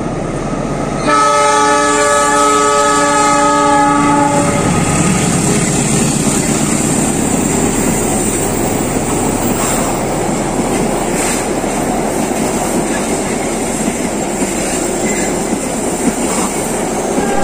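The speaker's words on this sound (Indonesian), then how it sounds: "Kereta api Arguilis sedang melintas di jembatan Cirahong" A passenger train crosses the Cirahong bridge in Indonesia close by, a long horn blast sounding over the steady roar and rumble of wheels on the track that continues throughout.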